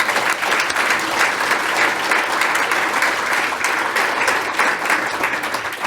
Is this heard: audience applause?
yes